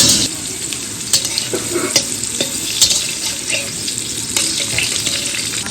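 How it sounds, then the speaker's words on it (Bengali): Potatoes frying in hot oil for a rice-ceremony feast give off a steady, close sizzle with occasional clinks and scrapes of stirring throughout. "এবার আলুটা ভেজে নিচ্ছি"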